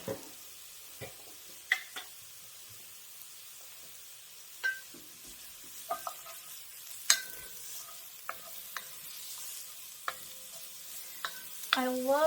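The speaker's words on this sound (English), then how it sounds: "I'm going to put a little oil in there so I can get my onions sauteed." Onions sautéing in oil in an enamel Dutch oven for chili: a faint, steady frying hiss broken by scattered sharp clinks and scrapes of a utensil against the pot, close and fairly quiet, with no talking.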